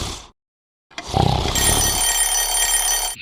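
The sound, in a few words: alarm clock ringing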